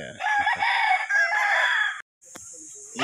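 A rooster crows once, loud and close, a long drawn-out call at a gamefowl farm, then stops; a short clatter or cluck follows after a brief silence.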